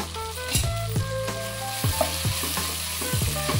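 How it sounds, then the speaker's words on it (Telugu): Ginger garlic paste sizzles and spits in hot oil in a pan while a spoon stirs it, with a few sharp scraping stirs standing out over a steady close frying hiss. "ఇప్పుడు మనము 1/2 tea spoon ginger garlic paste వేస్తున్నాను."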